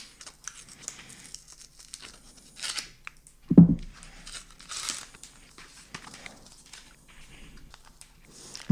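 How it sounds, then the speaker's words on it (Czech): Niche perfume box packaging being unwrapped by hand, with close, intermittent crinkling and tearing, one sharper rip partway through, and faint rustles between. "Já už to tady nějak rozbalím teďkom."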